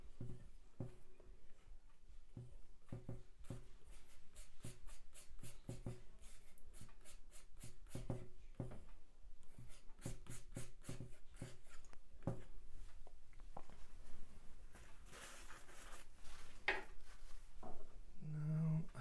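A painting knife drags paint across canvas during an abstract painting session, making soft, close scrapes in uneven strokes with small taps between them, all quiet and with no voices.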